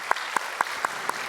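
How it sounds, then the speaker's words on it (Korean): Five crisp, evenly spaced claps, fairly faint and close, from a Korean church congregation giving encouraging applause during a sermon service, with no talk over them. "우리 한번 격려 박수 부탁합니다."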